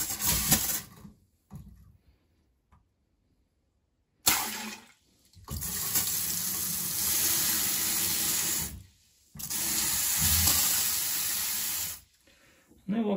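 A handheld bidet shower head fitted to a toilet sprays water in bursts: a brief gush, then two long, loud, steady hissing sprays separated by short pauses, close by in a bathroom.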